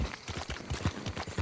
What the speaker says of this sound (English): Slopping through the mud here.